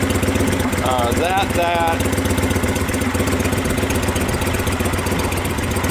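A Kawasaki motorcycle engine idles steadily and loudly nearby with a rhythmic pulsing lope, and someone speaks briefly over the running engine early on.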